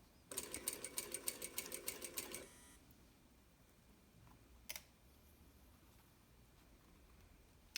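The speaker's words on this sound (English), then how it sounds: "Don't stitch over pins, stitch up to a pin" An electric sewing machine stitches a seam across pinned, gathered fabric: a fast, close, rhythmic clatter for about two seconds, then it stops and only faint room tone and a single small click remain.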